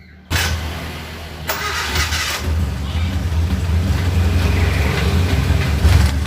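Suzuki Katana car engine cranked and started, then idling steadily with a low, even rumble while the carburetor is adjusted, close and loud, the idle rising slightly toward the end; someone speaks over it.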